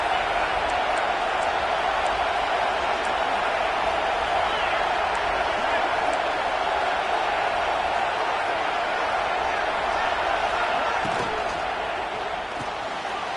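College football stadium crowd cheering, a dense, loud, steady roar filling the whole stretch, with a commentator's voice over it.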